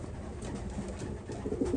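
A racing pigeon coos close up, a low, soft throaty burble repeating under a faint steady background hum over a couple of seconds.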